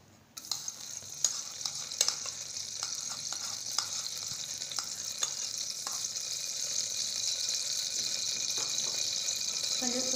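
Vanaspati and ghee melt and sizzle in a pan for white pulao, a steady close hiss that grows slightly stronger, with a few light clinks and stirring scrapes early on and no talk.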